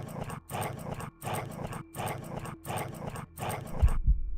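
Dogs in the Quasimorph video game growl and snarl in repeated bursts while trying to bite through a door, a steady rhythmic run of close, rough noise with a couple of heavier thuds near the end.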